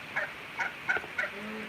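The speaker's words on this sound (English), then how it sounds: "That's my turkey calling me." A farmyard turkey on a homestead gobbles in four quick, evenly spaced bursts, close and fairly loud against a quiet outdoor background.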